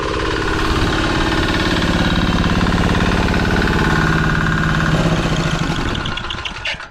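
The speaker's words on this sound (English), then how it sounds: "The diesel engine is awesome." A diesel engine runs as a DIY range extender on a golf kart, a steady, loud, close chugging drone with a rapid knocking pulse that tapers slightly at the end, with no talk.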